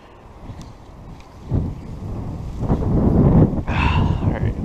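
Strong outdoor wind buffets the microphone beside a trout stream, a rough, close rumbling roar that swells and gusts louder over several seconds.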